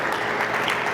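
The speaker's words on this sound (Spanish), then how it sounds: "Denles aplauso a Dios." A church congregation applauding at a sermon, a brief dense wash of clapping at steady moderate level with no talk over it.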